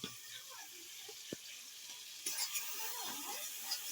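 A spice paste frying in hot oil for a dish of chicken trimmings, giving a soft steady hiss and sizzle that grows a little louder midway, with a single faint clink of a utensil and no talk.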